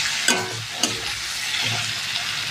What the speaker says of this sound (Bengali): মশলার সাথে আলুটাকে ভালো করে কষিয়ে নেবো